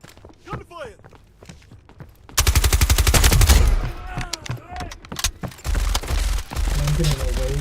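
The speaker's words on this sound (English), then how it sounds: "Gunfire!" Rapid automatic gunfire in a PUBG Mobile battle royale match, dense bursts of shots that start abruptly after a stretch of talking and continue in loud rattling volleys, with a voice speaking over the fighting.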